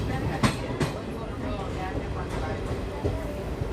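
A Raipur–Visakhapatnam passenger train rumbles along with a steady low roar and a few sharp clacks, while someone talks over the running noise.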